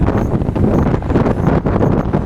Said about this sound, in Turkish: Hala çok rüzgar var.